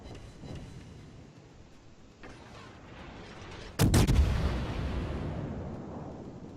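Naval ship guns fire a broadside in World of Warships, a single heavy booming blast that rolls into a lingering rumble over a low, steady battle ambience.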